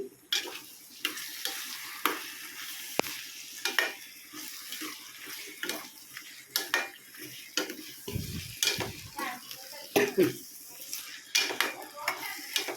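A spoon mixes a tomato and green chilli curry in a pot, with irregular scrapes and sharp metallic clinks over a light sizzle, close by and fairly quiet between strokes.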